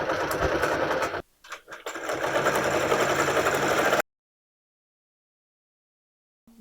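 A sewing machine runs fast and loud while basting a placemat, with a brief dip in the whir before it resumes. The sound cuts off abruptly into silence.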